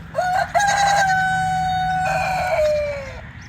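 A rooster crows loudly and close by, one long drawn-out call that rises and holds before trailing off, with a faint low hum beneath.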